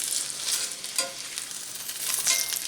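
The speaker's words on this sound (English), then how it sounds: "Just trying to get these shells a little crispy." Taco shells crisping in a hot pan, a close, steady sizzle with brief bursts of crackle as they are moved.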